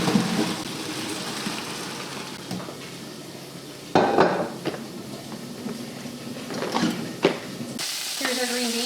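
Green beans sautéing and blistering in a covered pan, cooked Italian-style with tomatoes, give off a steady close hiss. A few clanks of the pan and lid break through, with a louder clatter around the midpoint and a brief voice near the end.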